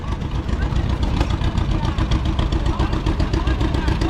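Several John Deere tractors idle together at a steam show, a steady low mechanical rumble with a faint rhythmic chug, mixed with outdoor crowd noise and people talking nearby.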